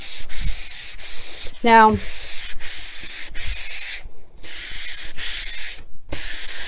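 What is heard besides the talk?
sanding latex-painted cabinet top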